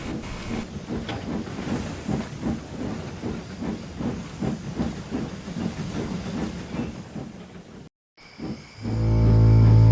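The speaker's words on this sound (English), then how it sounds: "saying good night to Clarence and Samson, I puffed away to my shed" A steam locomotive in the Trainz railway simulator chuffs in a steady rhythm of hissing puffs for about eight seconds. A brief silence follows, then a loud sustained tone.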